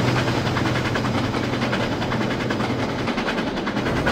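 An L1 British steam locomotive in the Trainz railway simulator runs on, giving a steady, loud, continuous rumble with a faint rhythmic chuff and no voices over it.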